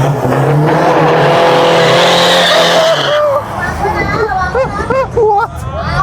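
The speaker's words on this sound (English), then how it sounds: "Oh, doing a burnout!" A diesel pickup does a burnout at a large Thai car show, its engine roaring and tires squealing loudly for about three seconds before fading into crowd chatter and excited voices.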